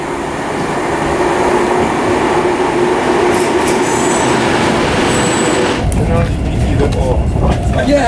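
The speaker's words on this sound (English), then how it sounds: "Arriving at platform 4 is the 12:58 service to London Euston." A passenger train pulls into a UK station platform, a loud, steady rumble of wheels and rolling stock that shifts near the end to lower clattering and faint squeals as it slows, with no talk.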